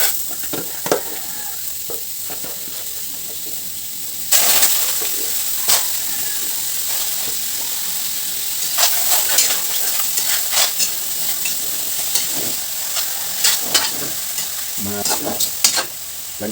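A viand dish frying and being stirred in a pan, loud continuous sizzling with repeated scraping strokes of a utensil and occasional sharper clatters throughout.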